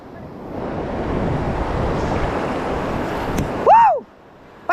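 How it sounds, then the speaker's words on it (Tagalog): Surf rolls and breaks steadily in open water during a deep-sea fishing trip for giant trevally, mixed with wind rushing over the microphone, then drops off abruptly near the end as a short tonal squeal cuts in. "Antayin mo yung alon."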